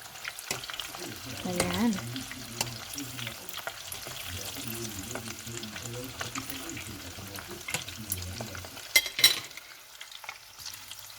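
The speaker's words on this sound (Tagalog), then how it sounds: "Hintayin natin mag golden brown, no? Kasi mabilis lang po kasi may breadcrumb." Breadcrumb-coated hotdog sandwich frying in hot oil, a steady sizzle with stirring and a few louder clatters, and a voice speaking briefly over it.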